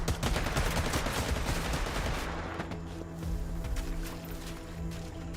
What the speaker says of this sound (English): he's using the net gun